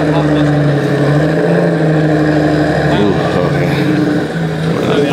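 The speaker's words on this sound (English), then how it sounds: "Porsche headed out." A Porsche pulls out of a car meet with a steady engine drone and rising revs, loud and close, while other engines idle nearby and people chat over the top.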